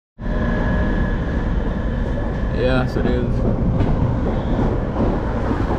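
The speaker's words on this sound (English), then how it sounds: "That train went by real fast" A fast train in London rushing past with a loud, steady roar and rattling wheel clatter, close by; someone speaks briefly over the noise.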